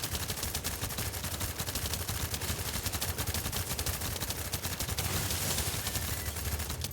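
Rapid, continuous gunfire while shooting a boss in a video game, a dense stream of sharp bursts layered over a low rumble at steady loudness, with no talk.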